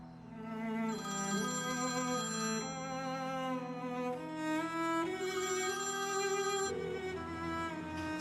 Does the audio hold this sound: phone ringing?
yes